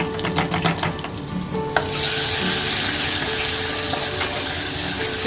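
Garlic and cumin frying in a hot pan, starting with a few crackling pops and then swelling into a loud, steady sizzle that continues to the end, with no talking.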